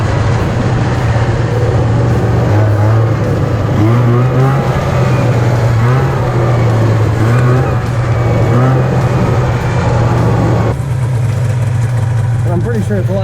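An Arctic Cat 440 two-stroke engine fitted to a quad on wheels runs loud and close, its droning engine tone rising and falling with throttle as it rides, and a brief dip near the end.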